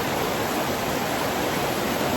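A rough river in Portland, Jamaica rushes along as a steady, dense broadband wash of flowing water, continuous and fairly close, with no voices.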